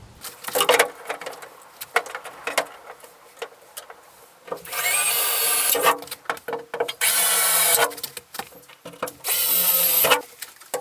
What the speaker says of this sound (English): At the moment I've just drilled the 4 holes